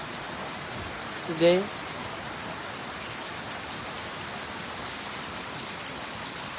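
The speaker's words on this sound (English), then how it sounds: "even though it's raining" Steady rain falls on a farm in the evening as a soft, even hiss, with a brief faint voice rising once near the start over the constant patter.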